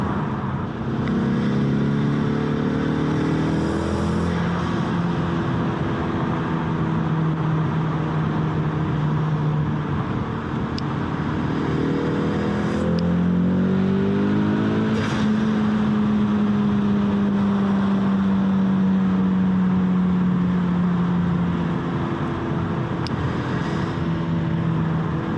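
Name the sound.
2020 Ford Mustang EcoBoost HPP 2.3 engine accelerating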